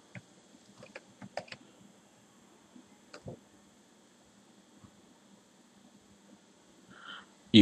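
A computer keyboard clicks out a short search query in a few quick bursts of light taps, mostly early on and then one more, quiet and close over a low room hum.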